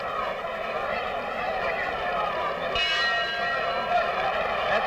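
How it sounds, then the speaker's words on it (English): A boxing bell rings to mark a new round at a title fight, a sustained metallic ringing tone over constant arena crowd noise, with a brighter strike partway through. "That's the bell for round 4."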